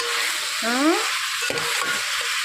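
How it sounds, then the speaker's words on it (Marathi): Chicken pieces frying with onions in a pan, a steady sizzle with a spatula scrape and clatter midway, plus a brief voice-like tonal sound in the background. "या कांद्यामध्ये चिकन टाकून घेतलेलं आहे"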